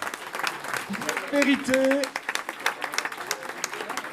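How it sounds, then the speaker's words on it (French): An audience at a hackathon awards ceremony claps for a prize-winning team, dense steady applause with a voice speaking briefly over it and a short musical jingle in the middle. "On peut les applaudir très fort."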